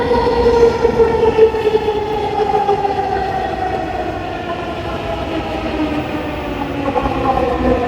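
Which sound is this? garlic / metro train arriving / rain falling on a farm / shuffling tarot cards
metro train arriving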